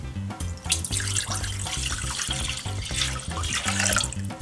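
Homemade soy milk pours into a pot on a stovetop over medium heat, a steady splashing, gurgling stream that runs close and fairly loud for several seconds with no talking.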